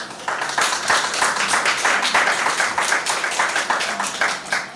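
Audience applauding high school students at a debating competition, a steady dense patter of many hands clapping throughout at a fairly close, even level.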